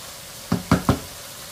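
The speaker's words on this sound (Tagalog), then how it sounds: "Halu-haluin lang natin." A utensil knocks and scrapes three times in quick succession against a pan while pork Shanghai filling is stirred, the strokes close and distinct over a quiet background.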